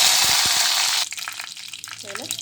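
Curry leaves hit hot oil for a dried fish thokku, giving a loud hissing sizzle that suddenly drops after about a second to quieter scattered crackles, with a brief faint voice near the end.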